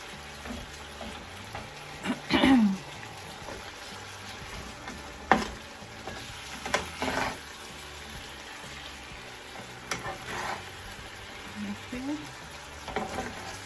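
Steak slices being flipped on a griddle for Philly steak sandwiches, giving a low continuous sizzle broken by a few scraping clatters and taps of the spatula, fairly quiet and close.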